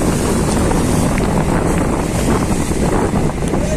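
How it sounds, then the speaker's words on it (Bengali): Strong wind and rough waves on the turbulent Padma river at Mawa ferry ghat during a cyclone, a loud continuous roar of gusting wind buffeting the microphone over churning water, with no voices. "মাওয়াঘাট এই প্রান্তে যদি বাতাস এবং ঢেউয়ের প্রভাব এতটাই হয়"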